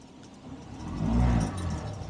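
A small boat motor idles and swells briefly as a little throttle is given, a close, low engine hum rising and falling within two seconds.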